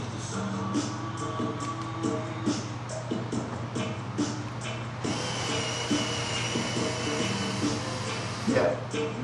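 Drill spinning a screw extractor to remove a stripped screw, a steady close motor whine with a low hum throughout, growing rougher and louder midway as the bit bites, with faint talk.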